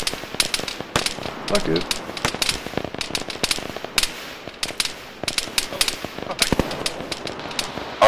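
Combat in the Arma 3 video game in a forest: sharp rifle shots and bursts crack irregularly, some close and loud, others distant, while a voice swears briefly over the firing.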